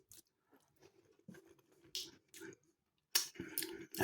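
Mouthfuls of Sainsbury's Taste the Difference cottage pie with firm, chewy meat, carrot and cheddar topping being chewed: close, soft squishy chewing with small clicks, then louder wet bites near the end.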